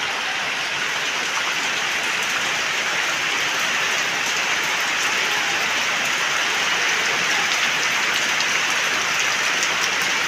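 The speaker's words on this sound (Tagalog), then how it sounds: "Ang lakas na naman ng ulan." Heavy rain pours down steadily and loudly on a farm in a constant dense roar, with no voices and no pauses.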